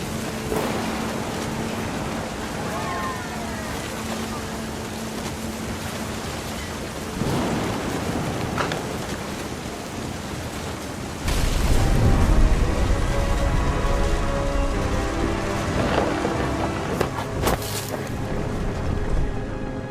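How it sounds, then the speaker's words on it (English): Steady rain and wind roar in a thunderstorm scene from the video game What Remains of Edith Finch, with a deeper rumbling surge partway through and loud broadband noise continuing to the end, no voices heard. "The thunder sounded much too close and full of angry power."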